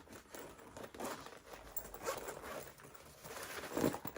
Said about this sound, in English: I'm gonna open it up, give you a look on the inside.